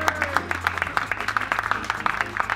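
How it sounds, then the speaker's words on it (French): Audience applause at a volunteer-supported ALTRIMAN 2022 triathlon event, a dense run of rapid claps from a nearby crowd, steady and lively throughout, with a low hum beneath. "Vous pouvez l'applaudir quand même"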